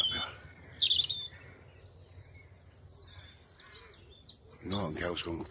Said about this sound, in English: There's a robin up here. He's trying to out-sing it.